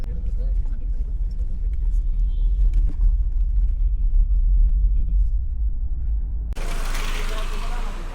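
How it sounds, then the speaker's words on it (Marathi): Car stuck in traffic on the road to Mahabaleshwar, with a steady low engine and road rumble throughout and a brighter hiss of wind or outside noise near the end. "आम्हाला ट्रॅफिक लागलेली आहे नेमकी"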